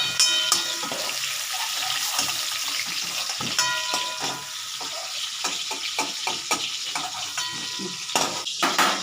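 Oil sizzles and crackles steadily in a pan while a utensil scrapes and clinks against it in irregular strokes, as prawns are lightly fried.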